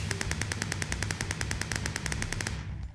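Rapid automatic gunfire from an overpowered command-block weapon in a video game, a dense steady stream of sharp shots at a fast regular rhythm, loud and close, stopping abruptly near the end.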